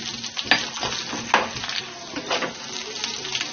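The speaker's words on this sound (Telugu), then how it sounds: "కొంచెం ఉల్లిపాయ చీలికలు కూడా వేసి వేయిద్దాం" Sliced onions added to a sizzling tempering of chilli, ginger and curry leaves in oil, a softer uneven fry with a few louder stirring scrapes and crackles, heard close and without voices.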